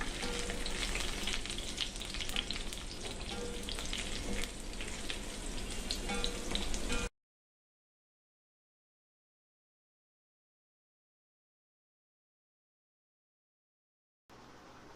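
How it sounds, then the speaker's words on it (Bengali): Onions frying in a pan for a pointed gourd dish, loud crackling sizzle with stirring scrapes for about seven seconds, then silence. "পেঁয়াজগুলোকে এভাবে নাড়াচাড়া করে হালকা লালচে করে ভেজে নিতে হবে।"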